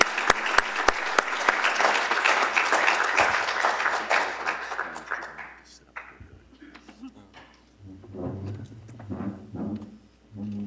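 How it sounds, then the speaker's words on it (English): Lecture-hall audience gives a hearty round of applause for panelists, a dense burst of many hands that swells and then fades after about six seconds into murmuring voices and talk. "Please join me in a hearty round of applause for our panelists who did an excellent job"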